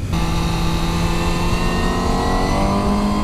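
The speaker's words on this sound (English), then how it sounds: "Oh, the noise of the Aprilia though, it's ridiculously cool." An Aprilia RSV4 1100 superbike engine revs loud and close, a steady high-pitched motor roar with rising harmonic whine throughout, no voices.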